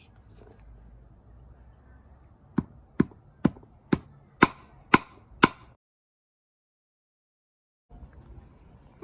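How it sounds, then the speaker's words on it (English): Seven sharp hammer blows smashing conkers strike in a steady rhythm, each a crisp crack, over a faint background hum that drops to silence afterward. "The hammer wasn't working well"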